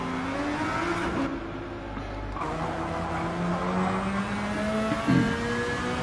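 Race cars in Gran Turismo 7 engines rev and shift through a chicane, a steady mid-pitched drone with rising and falling tones and a brief rasp near the end.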